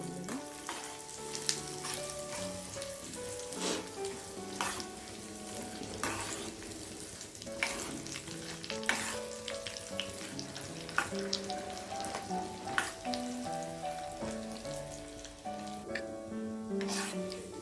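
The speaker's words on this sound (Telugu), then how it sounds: "శనగపప్పు ఫ్రై అవ్వడానికి కొద్ది టైం పడుతుంది." Chana dal frying in hot oil with cumin for a tomato and ripe red chilli chutney, a steady close sizzle and crackle lasting throughout, with occasional stirring scrapes and clinks of a utensil in the pan.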